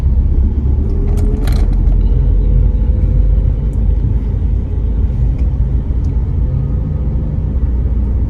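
A car engine rumbles steadily and close, with a rising whine early on as it gains speed on an uphill and downhill road during a driving lesson, then settles into an even drone.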